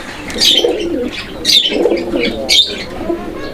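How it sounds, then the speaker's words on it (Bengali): Pigeons kept as fancy birds for sale, cooing in three regular, close, clear phrases about a second apart, with no voices. "এখানে আরও এক জোড়া কবুতরের কালেকশন আছে"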